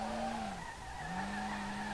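Tyres skid as a car drifts in Street Legal Racing Redline. A loud, continuous squeal dips in pitch briefly, then settles back over the engine's drone.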